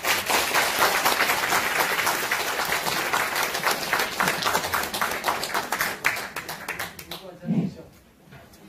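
An audience at a guest lecture applauds, a dense crowd of hands clapping loudly and steadily, then thinning into a few scattered claps as a voice briefly comes in near the end.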